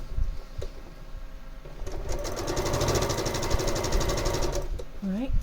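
A sewing machine stitching quilt block pieces runs in a steady, rapid mechanical chatter for a few seconds. Quiet handling noises come before it, and a voice comes in at the end.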